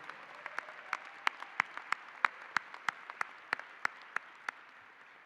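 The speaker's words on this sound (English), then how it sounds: "give another round of applause for the Honorable James Jim Holland" A crowd applauds at the VSU fall 2025 commencement ceremony, honoring James Jim Holland. The clapping is a steady, dense wash with a regular pulse of sharper claps running through it.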